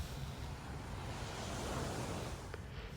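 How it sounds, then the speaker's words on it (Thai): Sea waves washing in steadily on the sand at Hua Hin beach, a continuous broad surf roar with some wind noise against the microphone and no talking. "ทะเลหัวหิน อ่าชายหาดหัวหินนะครับ"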